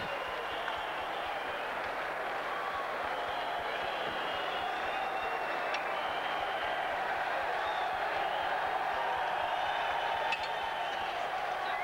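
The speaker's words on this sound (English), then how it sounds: "there's the Barbican crowd then delighted with another superlative warm performance" A boxing crowd at the Barbican roars and cheers after a knockout, a dense, continuous wash of many voices filling the hall at steady loudness throughout.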